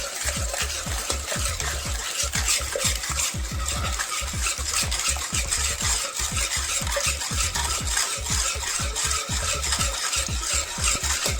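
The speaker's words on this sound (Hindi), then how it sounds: "फिर उसको अच्छी तरह से फेंट लीजिए" Powdered sugar being whisked into chocolate cake batter in a bowl, a fast steady rhythm of wet slapping strokes and whisk scrapes that goes on without a break, close and alone.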